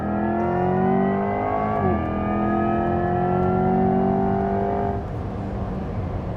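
A Corvette E-Ray launches hard from a standstill to 60 mph, engine note rising in a loud, smooth climb through the gears with a brief shift dip, then easing off near the end.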